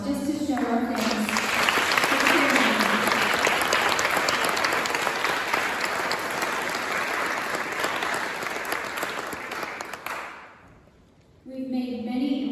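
An audience gives a long round of applause at a Mental Health Month kickoff event. Dense clapping holds for about ten seconds, fades away, and then a voice speaks.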